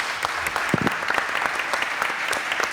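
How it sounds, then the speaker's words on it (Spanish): Audience at a round-table conference on goods mobility applauds the panel speakers, steady dense clapping sustained throughout at moderate loudness. "un fuerte aplauso para los ponentes"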